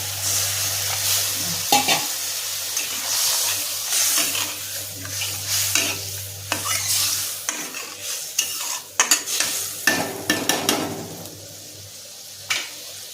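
A Bengali rupchand fish jhal curry heats in a pan after water is poured in, a constant bubbling sizzle with intermittent stirring clinks and scrapes, alongside a low steady hum that stops partway through.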